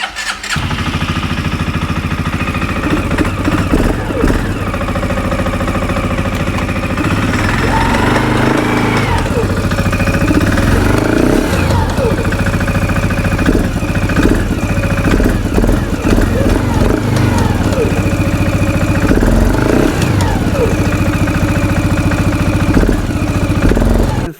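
A loud small CFMOTO ATV engine, previously blown up, runs continuously, sputtering and revving unevenly with a rough, rattling idle throughout.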